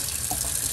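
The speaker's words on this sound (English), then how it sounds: "if I run water under it, you see how the water beads?" Tap water runs over a coated tumbler at a sink, a brief steady splashing stream, close and continuous with no talking.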